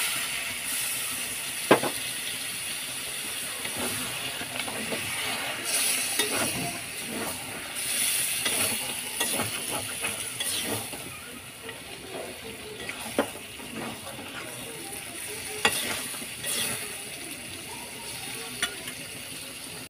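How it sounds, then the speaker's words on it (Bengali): Chicken with a little added water being stirred and fried in a pan, a steady close sizzle broken by repeated scraping and clinks of a spatula against the pan at an uneven rhythm, with no talking. "পাঁচ মিনিট কষিয়ে নিয়েছি"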